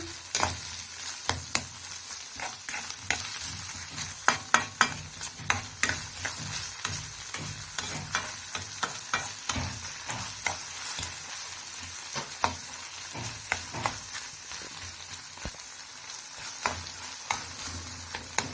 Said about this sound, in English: we stir for our tomatoes to cook and also our capsicum to soften